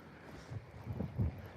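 Wind gusts buffet the microphone in low, rumbling bursts, growing stronger toward the end, with no other sounds standing out.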